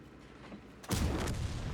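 A tank cannon fires in World of Tanks: one sudden heavy boom cuts through a quiet low rumble and rings out loud and broad for the rest of the moment, with no talking.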